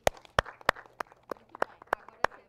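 A small group claps and cheers after a music performance at a songwriting camp, with sharp separate claps and short bursts of voices in between.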